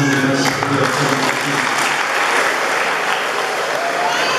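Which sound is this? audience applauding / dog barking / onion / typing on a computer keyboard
audience applauding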